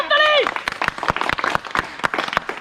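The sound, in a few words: clapping for the winner of a balloon-popping game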